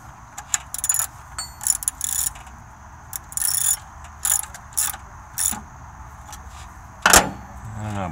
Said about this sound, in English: Bolt in the back with the little wrench over here.